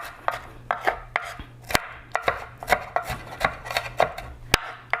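A knife chops red onion on a board in a home kitchen with a steady, brisk rhythm of sharp, close taps, about three per second, and no talk over them.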